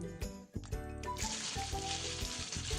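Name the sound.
chicken added to hot oil, sizzling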